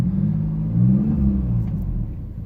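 A 2006 Chrysler Pacifica's 3.5 L engine revs with a low, steady exhaust rumble that swells briefly early on and then settles, close and continuous.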